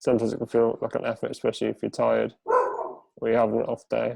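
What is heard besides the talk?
dog barking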